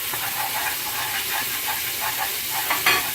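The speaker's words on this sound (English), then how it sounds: "And kind of just stir that in." Dry seasonings being stirred into a pot of Haitian rice and beans, a steady hissing, steamy simmer with soft stirring scrapes and a brief louder knock near the end.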